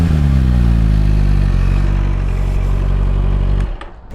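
A QJMOTOR SRK 421 RR motorcycle engine runs through a short exhaust, giving a steady, loud, close idle rumble with a rich harmonic tone that drops away abruptly near the end.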